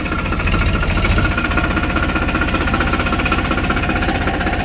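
A tractor engine runs steadily with a knocking, rhythmic diesel chug as it pulls away slowly, loud and close throughout without a break.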